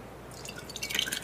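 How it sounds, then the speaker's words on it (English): Lumpy kefir is poured into a jar, giving faint, irregular wet drips and splashes that grow busier toward the end, with no talking. "I'm actually going to pour it into a jar so that you can see it there too."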